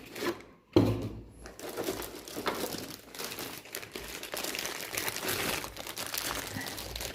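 Packaging from a Redragon Effect X CCW3000 AIO liquid CPU cooler is opened, producing soft crinkling and rustling with a brief louder crumple near the start, fairly quiet and close, without speech.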